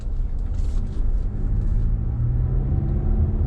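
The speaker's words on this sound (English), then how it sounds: "I'm gonna hit some potholes and stuff here" A Toyota RAV4 TRD Off Road rolls over potholes, heard from inside the cabin as a deep, steady road rumble with soft bumps and a faint hiss, and no one speaking.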